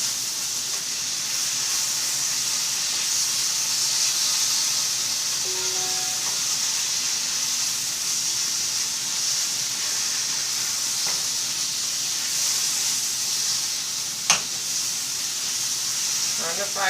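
Sweet potatoes sizzle in a hot pan, a steady bright frying hiss that runs unbroken throughout at moderate level, with a few faint clinks of stirring over it.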